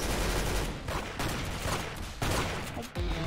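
Gunfire from assorted weapons in the Roblox shooter Arsenal: dense, continuous bursts of shots with a few brief pauses, steady and fairly loud throughout.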